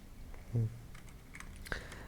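A few faint, scattered keystrokes on a computer keyboard in a quiet room, a handful of soft clicks spread apart rather than steady typing.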